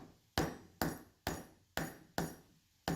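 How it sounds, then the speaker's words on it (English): Light hammer taps on a woodworking chisel paring a molding corner: six sharp, evenly spaced knocks, each with a short ringing decay, close up and alone. "These are just light taps. I certainly don't want to drive the chisel into the molding."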